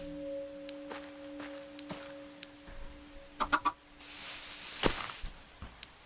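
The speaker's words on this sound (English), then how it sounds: "here's the chicken" A Minecraft chicken clucking nearby, several short clucks in a quick cluster over quiet background game sounds.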